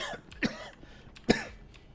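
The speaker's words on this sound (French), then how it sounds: "Arrêtez de me tousser dessus monsieur." A man coughs twice, sharp and close, with a brief throat-clearing rasp between the bursts, fairly quiet overall and with no speech.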